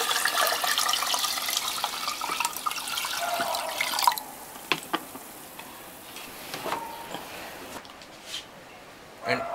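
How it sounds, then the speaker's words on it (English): Treated effluent liquid, the supernatant from a treatment plant, flows into a second aeration tank, giving a steady close watery rush with a few drips and ticks, easing to a quieter trickle partway through. "We are transferring the supernatant. Second tank."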